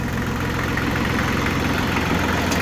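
A diesel engine with gelled fuel runs in a steady, loud, continuous rumble, close by and unbroken, with no voices over it.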